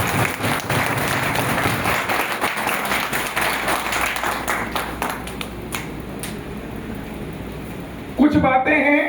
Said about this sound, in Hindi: तो जोरदार ताली बजाओ अपने लिए।